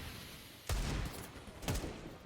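Desert Eagle pistol fire in a Counter-Strike match at a professional tournament, two heavy single shots about a second apart, loud and close over a steady wash of game and crowd noise.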